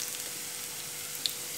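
Soft steady sizzle of onion and curry leaves sautéing in a pan for an egg thoran, close and fairly quiet, with a couple of faint light clicks near the end.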